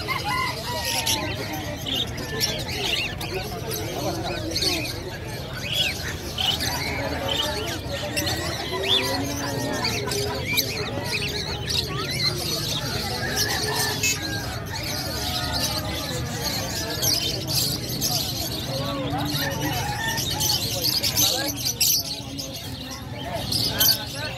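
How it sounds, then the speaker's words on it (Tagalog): Many birds, including doves, chirp and coo in a busy crowd at a bird market in Bocaue, Bulacan, with people talking and steady market bustle throughout. "Dito tayo sa ibon. Daming uring ibon to."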